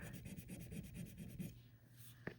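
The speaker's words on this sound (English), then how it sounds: "I'm gonna take this one again and rub it right there" A bead being rubbed close up in quick, rhythmic, faint strokes that stop partway, followed by a couple of small taps.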